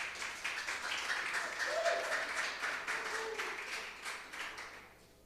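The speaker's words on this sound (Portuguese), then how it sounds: "Aplaude Jesus." A church congregation claps together in praise, with steady, fairly distant applause filling the room for several seconds before fading out.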